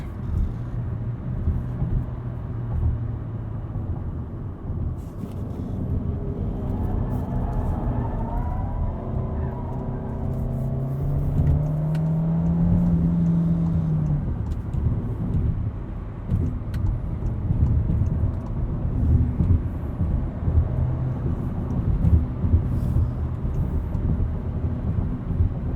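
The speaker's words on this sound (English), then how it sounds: "If I'm going 63 right now, here I'll floor it." A 2020 VW Golf pulling hard at full throttle from about 63 mph, heard from inside the cabin as a steady engine drone that climbs gradually in pitch over road and wind noise, with no talking.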